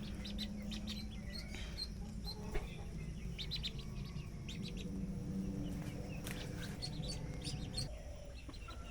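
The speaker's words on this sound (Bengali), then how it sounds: "এখানে আছে 32 পিস হাঁসের বাচ্চা।" A brood of ducklings peeps in a shed, thin high chirps scattered over a steady low background hum, some clucking fowl mixed in, fairly faint throughout.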